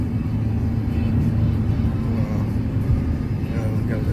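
Steady low engine rumble and road noise from inside a vehicle on a rural road to the dump, continuous and loud throughout as another car is passed slowly.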